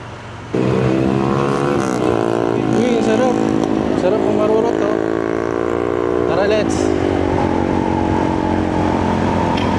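A Honda Click 160 scooter ridden at night through Cebu City, its engine humming steadily with small rises in revs and wind rush, close and constant while someone talks over it.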